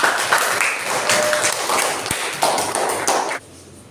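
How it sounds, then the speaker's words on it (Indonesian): Students in a classroom clap together at the teacher's request, a dense, steady patter that runs for about three seconds and then drops off sharply near the end. "Berikan tepuk tangan yang meriah"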